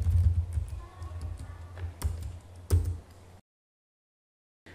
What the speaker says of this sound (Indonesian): Ketikkan spanning tree link type, kemudian point to point.